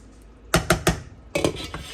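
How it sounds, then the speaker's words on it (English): Dirty rice with seasoning stirred in a metal pot: a quick run of three sharp spoon clanks, a pause, then a scraping cluster of clinks, close and loud with little background. "So yeah, we're gonna go ahead and stir this, and then we're gonna let it simmer and cook down."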